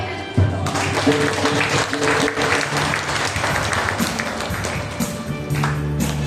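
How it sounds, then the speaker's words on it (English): Steady, dense hand clapping from a congregation at a prayer service, continuous and fairly loud throughout, with faint voices and some tones mixed underneath. "Let's clap our hands."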